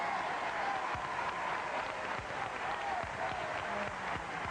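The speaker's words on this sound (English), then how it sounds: "Would you all join me in a brisk round of applause" Studio audience applause on a 1984 television game show, a continuous, even roar of clapping heard at a distance with a slightly muffled broadcast quality and faint voices mixed in.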